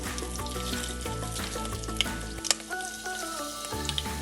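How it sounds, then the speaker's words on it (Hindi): Broken dried red chillies dropped into hot oil with curry leaves for banana flower sabzi, a steady close sizzle and crackle with a few sharp pops and stirring, no voices. "उसके बाद डालेंगे मिर्च, उसको तोड़कर डालना है"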